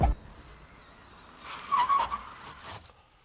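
A car braking suddenly, its tires skidding and squealing on the road in a rising rush of noise that peaks and then fades, close and alone.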